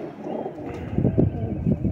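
Rooftop pigeons of a batera-type flock coo in low, throaty pulses close by, with several rounded swells repeating over a short stretch.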